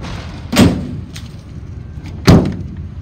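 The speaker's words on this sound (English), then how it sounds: "Both of those back doors open and close" Two heavy thuds about two seconds apart as the back doors of a 2002 Dodge Ram Van 3500 close, loud and close with a short ringing decay.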